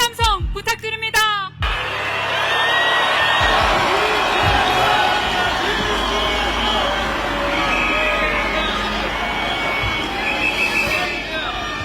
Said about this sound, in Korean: 큰 함성 부탁드립니다